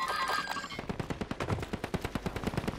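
Enemy automatic gunfire in a Warzone match, a rapid, evenly spaced string of sharp shots that grows distinct and close after a noisy start.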